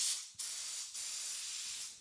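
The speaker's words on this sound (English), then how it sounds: "And here's our spray." A Smith battery-powered two-gallon pump sprayer gives off a steady, bright hiss of spray close by. The hiss breaks off briefly twice and starts again at once.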